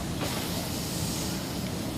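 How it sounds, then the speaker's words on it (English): Chicken pieces sizzle skin side up on an oiled barbecue grill, giving a steady, fairly quiet hiss that runs unbroken throughout with no talking. "You'll just hear it sizzle when you hit it."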